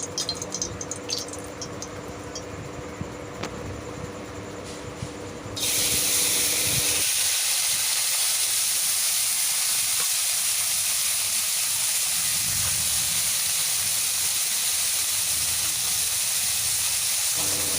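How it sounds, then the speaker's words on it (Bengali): Quiet kitchen sounds give way to a sudden loud burst of hissing, sputtering oil that holds steady and close as small river fish start frying in a wok. "কড়াইতে তেল গরম হয়ে গেছে মাছগুলো আস্তে আস্তে করে তুলে দেব কড়াইতে ভাজা হওয়ার জন্যে"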